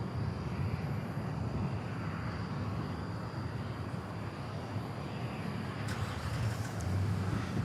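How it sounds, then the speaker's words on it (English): A UPS Boeing 767 being pushed back at DFW airport on a hot night, with a steady, unbroken jet engine roar holding at moderate distance and no voices. "another pushback for UPS 767"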